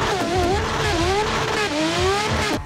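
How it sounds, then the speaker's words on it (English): A loud drift car engine revs hard in rising, wavering bursts with brief dips between pulls, close and dominant throughout with no voices. "Headphone users, warning, this is a very loud car."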